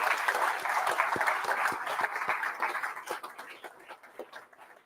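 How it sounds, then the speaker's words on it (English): A crowd applauds at the Advance UK party launch event in Newcastle: dense clapping that starts strong and gradually thins into scattered individual claps. "Give yourself a huge round of applause."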